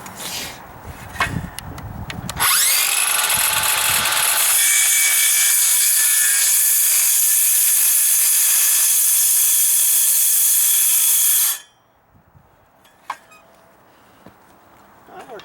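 A power tool cuts steadily through material, a loud, continuous high-pitched buzzing rasp lasting around nine seconds before stopping abruptly, with a few handling knocks before and after.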